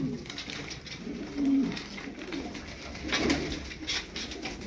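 Domestic tumbler pigeons coo softly nearby, a couple of low throaty calls rising over a quiet background of rustling and faint bird noise.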